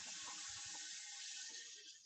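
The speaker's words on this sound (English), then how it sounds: "I'm just going to fill the blender up." Running water pours steadily into a blender, a bright continuous rush with no voices.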